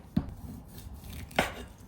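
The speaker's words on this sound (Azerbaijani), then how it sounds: "Toyuq sinə ətini kubikvari doğrayırıq." A knife cuts chicken breast into cubes on a board for a layered salad. Two distinct, fairly quiet chops sound about a second apart over a soft room hush.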